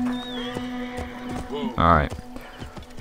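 A horse in the video game Assassin's Creed Origins gallops with steady hoof clops and gives a brief, loud neigh near the middle, while a voice speaks over the game sounds.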